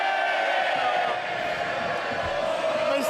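Members of Parliament cheering in the House of Commons chamber, a dense, continuous roar of many voices filling the room at close range.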